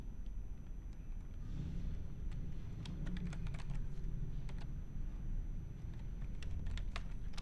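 Typing on a computer keyboard while entering item names into a bill sheet in MS Excel 2021, with steady close key clicks in irregular quick bursts over a low background hum.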